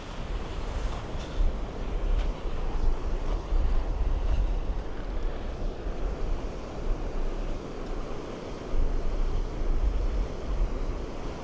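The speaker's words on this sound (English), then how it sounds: "Well, I'm back on the beach." Surf rolls steadily onto Porthcawl beach under strong wind, a continuous loud wash with heavy wind rumble buffeting the microphone and no clear breaks between waves.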